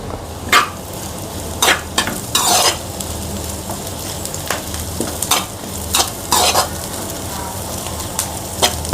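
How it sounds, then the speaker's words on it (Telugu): Curry leaves fry in hot oil in a pan, sizzling steadily under a string of sharp scrapes and clacks as a utensil stirs them at an uneven pace. "ఇప్పుడు కొంచెం కరివేపాకు యాడ్ చేసుకోవాలి."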